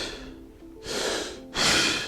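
Close, loud deep breaths during an exercise breathing demonstration: a quiet pause, then a long airy inhale-exhale followed by a second, stronger one, with no talking.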